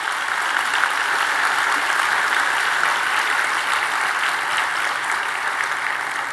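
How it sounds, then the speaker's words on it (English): Sustained applause from an audience at an awards event fills the room, a steady dense clapping wash at even loudness throughout with no talk over it. "Now please give a warm round of applause"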